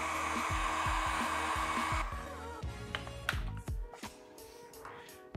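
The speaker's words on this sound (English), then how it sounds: "a quick blast of the hot air gun or hair dryer will help a lot" A hot air gun or hair dryer blowing steadily for about two seconds, then switching off, followed by handling clatter and knocks while fitting light stickers on a Honda Goldwing GL1800 saddlebag.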